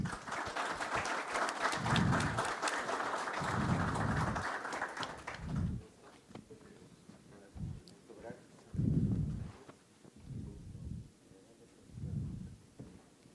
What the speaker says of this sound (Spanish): Recibimos con fuertes aplausos a Diego Fuentes